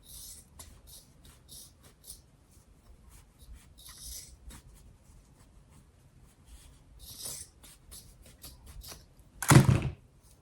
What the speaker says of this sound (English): So I'm cutting this into thinner strips.